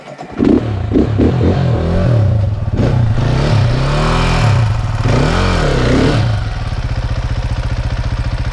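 A motorcycle on a dirt trail, loud and close, its engine revving in repeated rising and falling surges before settling into a steady rough idle with clattering mechanical noise.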